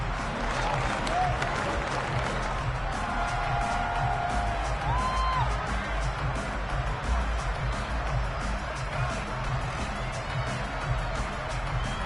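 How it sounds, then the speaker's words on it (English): A stadium crowd in the Madden football video game applauds and cheers for the defense after a stop, a dense, continuous roar of clapping and noise holding steady throughout. "How about some applause for the defense there?"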